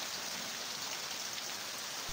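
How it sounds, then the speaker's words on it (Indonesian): A rainstorm sound effect from an Indonesian audio drama: a dense, even hiss of falling rain, soft and continuous, heard alone without voices. "Roro berlari menembus hujan badai demi bertemu sang kekasih tercinta."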